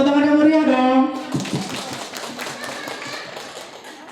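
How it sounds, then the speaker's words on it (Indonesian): After a brief spoken line, an audience at an indoor government parenting and stunting-reduction seminar breaks into a short burst of clapping that quickly thins and fades. "Tepuk tangan yang meriah dong."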